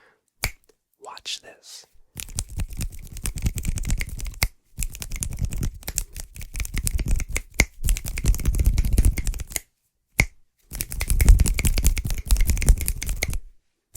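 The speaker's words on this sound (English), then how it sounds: "the softer 4 finger snaps and that sudden, crisp pop to your brain" Crisp finger snaps and sharp hand pops made up close, with dry rubbing and crinkly textures between them, in bursts separated by short silences; a brief spoken line comes early.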